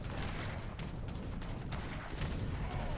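Artillery fire, including culverins, in a battle in the video game Age of Empires 3: a dense, low-level din of overlapping booms and shots rumbling continuously at a distance.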